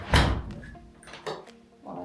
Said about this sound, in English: while I lock this door.